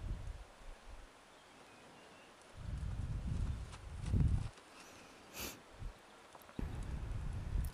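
A horse moves about at moderate distance, with soft hoof thuds and shuffling in irregular clusters, a sharp snort-like burst between them, and outdoor background rustle.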